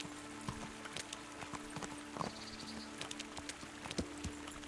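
Horse hooves clip-clop over rough, wet ground in the video game Kingdom Come: Deliverance, a soft, irregular run of distinct thuds with faint insect chirping and ambient noise behind.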